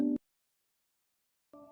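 A phone rings with two short electronic tone bursts separated by a long silent gap, clear and close in an otherwise quiet room.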